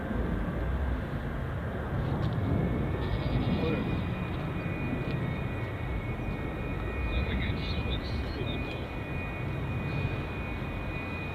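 An airplane takes off at O'Hare International Airport with a loud, continuous broadband jet roar that holds steady and fills the whole stretch.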